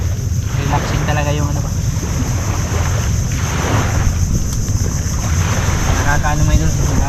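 Steady wash of sea waves along the shore at a seaside picnic spot, mixed with wind buffeting the microphone, continuous and fairly close, with people talking over it.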